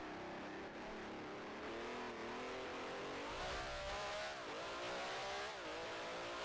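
A 3-litre V12 race car engine in the Grand Prix Legends game revs loud and close, its whining note climbing and dipping with shifts and throttle, with no talking.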